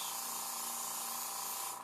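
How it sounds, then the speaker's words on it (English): Paint is sprayed over zombie knee prosthetic pieces in a continuous, even airbrush-like hiss, close and steady, with a faint hum of the compressor underneath. "I do a real strong spray over these things, and I go real heavy, or I can go real light."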